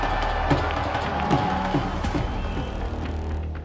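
A large outdoor crowd at the Wagah Border Ceremony between India and Pakistan roars steadily, with scattered whoops and a few louder bursts rising from the continuous mass of voices.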